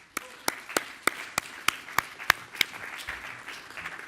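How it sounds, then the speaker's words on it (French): Scattered hand claps from the audience at a science-and-music day opening conference, about nine sharp, separate claps at an even rhythm that thin out into quiet murmur, with no dense crowd roar. "Je propose qu'on applaudisse tout le comité d'organisation ensemble."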